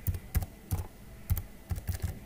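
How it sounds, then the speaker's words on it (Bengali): Computer keyboard typing a vehicle number, a few quick bursts of crisp key clicks in irregular short groups, close and clear with no speech. "সেই গাড়ির নাম্বারটি এখানে টাইপ করে দেবেন"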